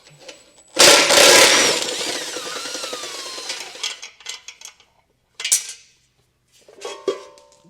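Metallic clinks and rattles of 15mm nuts being removed from the bumper impact bar of a 2022 Tesla, with a loud burst of ratcheting and clattering hardware early on, then scattered lighter clicks and taps alone.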